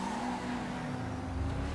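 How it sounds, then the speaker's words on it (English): Ubermacht Cypher, the game's BMW M2 lookalike, braking hard in GTA Online: a steady engine drone with a tonal whine that drops slightly as the car slows, with faint tire noise and no talking. "Let's test the brakes out real fast here."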